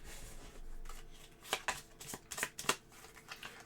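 A deck of cards for a deckbuilding tabletop game is shuffled by hand nearby, a soft riffling run followed by several sharp flicking bursts, fairly quiet with no voices.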